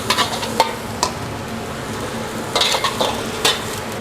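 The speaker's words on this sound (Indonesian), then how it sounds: "Minyak udah masuk. Bawang putih ya, kita tumis dulu nih." Garlic sautéing in oil for nasi goreng, a close continuous sizzle punctuated by several sharp clicks and scrapes of a spatula against the pan, no speech.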